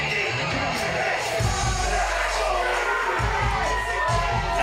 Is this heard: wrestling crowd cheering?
yes